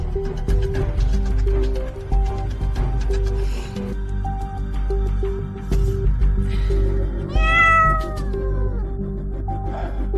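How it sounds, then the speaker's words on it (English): A stray cat meows in a cellar, giving a drawn-out, wavering cry near the end over a low rumbling background, with faint tonal beeps scattered throughout. "Probably a stray cat got in."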